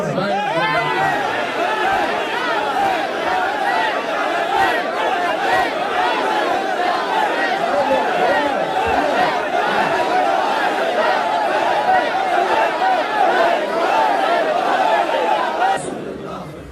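A large crowd at a Lahore religious gathering loudly chants Labbaik slogans, a dense, continuous roar of many voices that holds steady for most of the stretch and drops off near the end.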